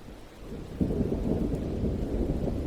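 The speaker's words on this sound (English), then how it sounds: "The jungle crouched, humped in silence, then spoke the thunder." Thunder rolls out in a deep, heavy rumble that swells suddenly and keeps growling steadily over a background of rain, with no voices.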